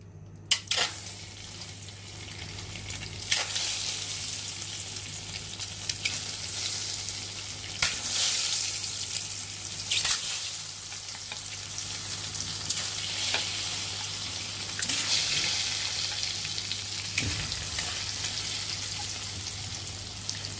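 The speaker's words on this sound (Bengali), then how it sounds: "এখন ভালোভাবে এখন আমরা ডিমটা ভেজে নিব।" Egg frying in oil in a pan, seasoned with a pinch of salt, for a cucumber and egg curry: a steady, moderately loud sizzle throughout, with a few sharp clicks and scrapes and a low hum underneath, no talking.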